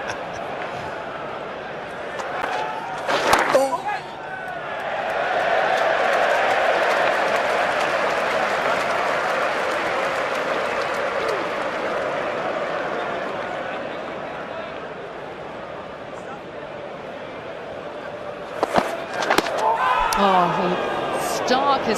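A cricket crowd breaks into sustained cheering and applause as spin bowler Nathan Lyon catches the ball, the roar swelling and holding for many seconds with sharper bursts near the start and end.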